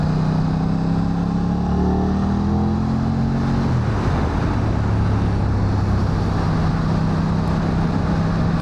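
An Aprilia RS660 Factory motorcycle on a 2025 ride hums with a steady engine drone mixed with wind rush, its pitch shifting as it shifts gear midway and then settling into an even cruise.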